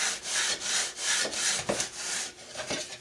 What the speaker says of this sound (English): just slide it back and forth so you get a good even sanding